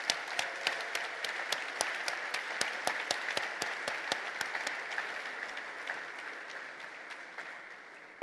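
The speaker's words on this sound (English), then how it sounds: "I want us to give a big applause to the band that played in the beginning" Congress hall audience at the PES Congress applauds the band, sparse, distinct claps ringing out in a large reverberant room, fairly even in pace and gradually thinning toward the end.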